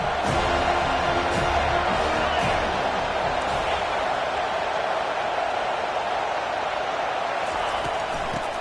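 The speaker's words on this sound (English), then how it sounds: "Decibels rising as the crowd gets behind this defense on 3rd down" Stadium crowd at a college football game, a dense steady roar holding loud throughout on third down, with faint thumps underneath and a voice talking over it.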